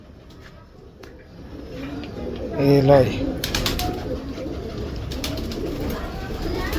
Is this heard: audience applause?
no